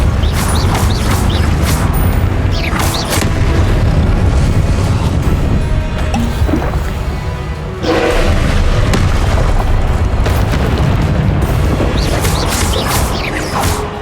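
Spell blasts and explosions crash continuously in the video game Hogwarts Legacy, loud booming impacts layered over a rumbling low roar for the whole stretch, with only a brief dip partway through.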